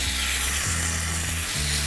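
Chicken tikka sizzling in hot mustard oil with a little ghee, a steady broadband crackle and hiss that stays close and even for the whole short stretch, with no voices over it.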